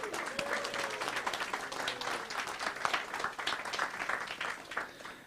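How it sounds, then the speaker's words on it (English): A park audience applauds a community band at an outdoor evening concert, steady dense clapping that holds at a moderate level for several seconds with no talk over it. "So let's give them a round of applause."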